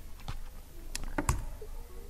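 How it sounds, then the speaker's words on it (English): Keys tapped on a computer keyboard, a few scattered clicks and taps with a sharper press near the end, close and fairly quiet against a faint room hum. "simply by tapping the F key on your keyboard"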